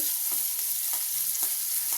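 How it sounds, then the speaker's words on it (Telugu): Onions sizzle steadily in hot oil for a raw banana curry, with a few soft scrapes of stirring breaking through the crackle. "ఉల్లిపాయని మంచిగా ఎర్రగా ఫ్రై చేసుకోవాలి"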